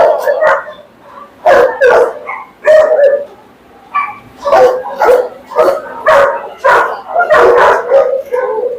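Several Borzoi and other large dogs at a big kennel farm bark and yelp in quick, irregular bursts, fairly close, with howl-like and whimpering calls mixed in and voices faintly underneath.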